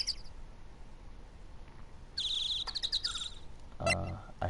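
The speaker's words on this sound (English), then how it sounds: "I hate those birds." Chirps from birds in the Phoenix Wright: Ace Attorney video game, a few brief high tweets over a quiet hum, followed by a louder burst near the end.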